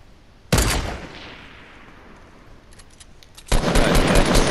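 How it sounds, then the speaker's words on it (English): Assault rifle fire in the video game Fortnite comes in two loud bursts of rapid automatic shots, a short volley followed by a quieter gap and then a second sustained burst. "I just decided to pull out my AR. Just lay down some gunfire."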